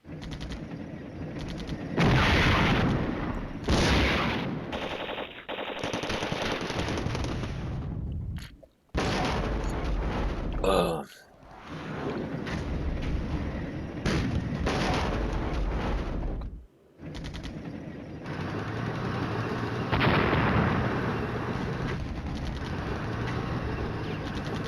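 Tank battle gunfire and artillery from the Flashpoint Campaigns: Red Storm wargame, bursts of shots and booming blasts in irregular clusters separated by brief silences, loud and close.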